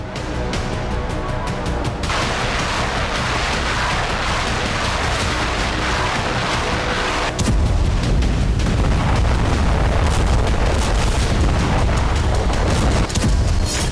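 Ballistic missile strikes produce a continuous roar of booming explosions and rumbling blasts, loud and dense throughout, with a heavier, deeper burst of impacts partway through.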